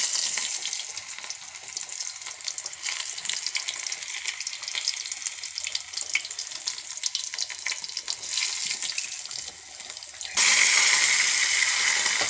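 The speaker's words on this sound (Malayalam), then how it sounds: "കടുവെല്ലാം പൊട്ടി" Continuous crackling and popping of mustard seeds spluttering in hot oil, dense and close, growing into a brighter hiss near the end.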